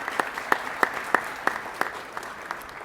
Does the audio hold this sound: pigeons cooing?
no